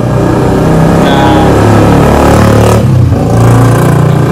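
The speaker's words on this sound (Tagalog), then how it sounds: "medyo maingay dito sa shop ko kasi nasa tabi lang kami ng daan" Loud, continuous road traffic rumbling past a roadside repair shop, with engines revving and a dense droning wash throughout.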